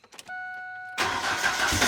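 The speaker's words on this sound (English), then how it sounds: "Put it in gear and start it." A Mazda project car's engine cranks and fires while in gear, a short starter whir breaking into a loud, rough running engine that stays steady and close, with no talk over it.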